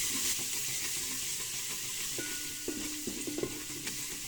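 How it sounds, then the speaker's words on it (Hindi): Spices such as dry ginger powder sizzle lightly in hot oil for Kashmiri chilli korma, a soft continuous frying hiss with a few utensil knocks and scrapes toward the end. "यह करो हल्क फ्राई"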